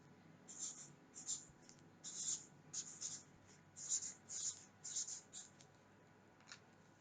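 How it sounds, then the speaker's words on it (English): A texter marker writes the date on paper, giving a series of short, scratchy squeaking strokes in quick bursts, close but quiet, with pauses between letters. "I'm going to write it on my paper."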